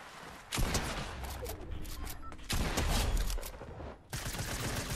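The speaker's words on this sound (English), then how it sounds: "I hear gunshots near where you guys are." Bursts of rapid gunfire in Fortnite crackle and rattle in three long volleys, loud and dense, with brief pauses between them and no talk over the shots.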